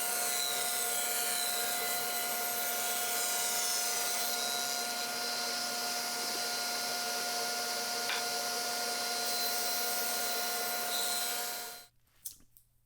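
A saw makes a precision 45-degree miter cut in wood for a kitchen island, a steady loud whine and buzz running for about twelve seconds before stopping abruptly, followed by brief faint clatter.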